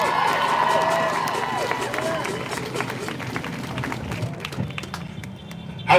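Crowd at a Daunte Wright protest cheering, whooping and clapping for a speaker, a loud outdoor swell that gradually fades before a sharp burst at the close.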